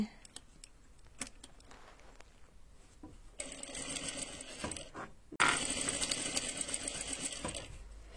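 A sewing machine fitted with an AliExpress gathering presser foot sews at its longest stitch length. Two quiet runs of mechanical whirring and clatter follow faint handling noises.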